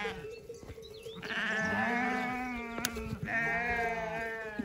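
Sheep and young lambs bleating close by on a farm, several wavering calls overlapping, some long and loud, others short, with the animals stirring around them.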